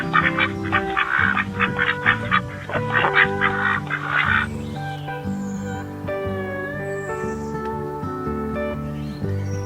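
A goose calls in a quick series of loud, nasal honks, then shifts to steadier drawn-out cries, close and clear with no talking.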